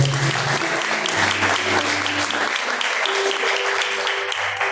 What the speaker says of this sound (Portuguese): receba as palmas que louvam o nome do Senhor